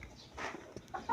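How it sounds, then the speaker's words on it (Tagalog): Chickens give a few short, quiet clucks at a rural home, soft scattered calls over faint background noise. "Ay, at panguan lagi ni si Bruno sa manok lagi."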